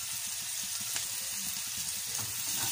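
Onion and curry leaves sautéing in a pan, a steady moderate sizzle with soft bubbling and a few faint clinks, no voices.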